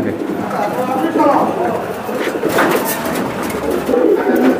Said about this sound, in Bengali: তো চলুন কবুতর দেখাই।